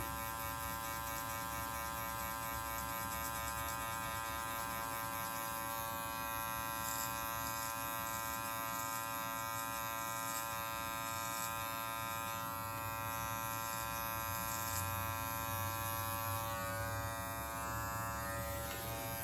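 Electric hair clippers fitted with a 1/2 inch attachment cut hair, producing a constant close buzzing hum that holds steady, with slight shifts in tone as the blades move through the hair.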